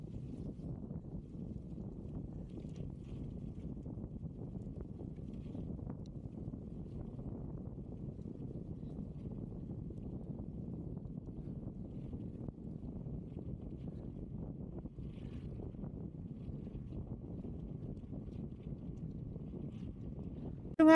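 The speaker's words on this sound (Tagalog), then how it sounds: "Yung hangin." Wind buffets the microphone in a steady low roar throughout a bicycle ride on a desert cycle track, constant and dull with occasional small bumps and no voices.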